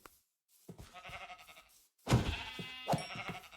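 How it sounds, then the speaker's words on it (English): Sheep in the video game Minecraft bleat in a few wavering, nasal calls, a quieter one first and then a louder pair close together, with brief game sounds between. "Sheep!"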